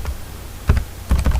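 Network command being typed on a computer keyboard: a short burst of quick, close, clattering keystrokes in a few uneven clusters, loud and alone.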